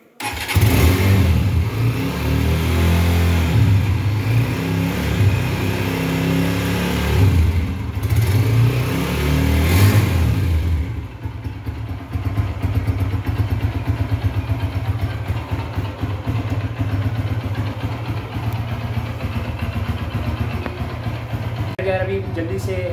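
A Honda CB150F motorcycle engine starts and revs loudly for about ten seconds, then settles into a steady idle close by.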